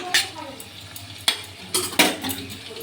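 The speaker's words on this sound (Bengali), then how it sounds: "আলুটা ভাজা হয়ে গেছে, আলুটা তুলে নিচ্ছি।" Potatoes fry in a pan with a soft sizzle as a utensil scrapes and clinks against the metal in a few sharp strokes, close up, with no talking.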